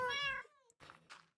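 A cat meows once, drawn out and fairly quiet, in Minecraft at a creeper farm, followed by a few soft, short game noises.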